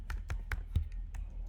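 Fingers tap a computer keyboard in a short burst of about six light, evenly spaced keystrokes, close and fairly quiet, with no talking.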